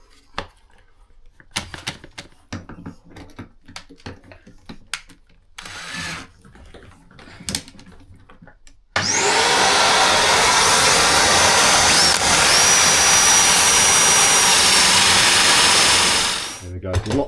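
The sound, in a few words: drilling MDF with a Forstner bit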